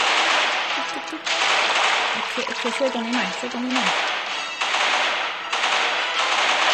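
Rapid automatic gunfire blasts at zombies in the Crossfire Legends shooter game, long continuous bursts separated by brief pauses, loud and close, with someone talking over the shooting.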